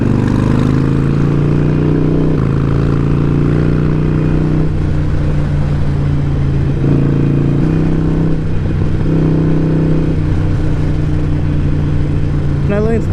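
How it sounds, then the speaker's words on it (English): A Harley-Davidson Iron 883 motorcycle engine drones loudly and continuously through its loud exhaust while riding, its exhaust note rising and falling with shifts in throttle, and wind rushing past. "The exhaust gives you that extra confidence that it's loud"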